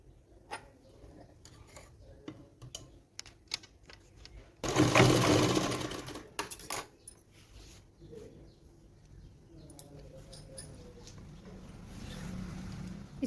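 A sewing machine stitches a petticoat in one loud, dense, whirring burst lasting about a second, with faint ticking and clicks before and after and quiet room noise between.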